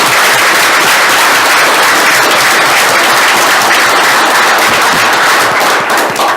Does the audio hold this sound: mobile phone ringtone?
no